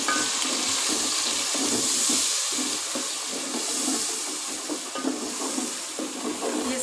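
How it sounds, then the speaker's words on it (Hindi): Spices, tomato and ginger-garlic paste fry in oil for an aloo baingan sabzi, giving a steady, loud, dense sizzle and hiss that runs without a break. "सारे मसालों को अच्छी तरह से हमने भूनना है।"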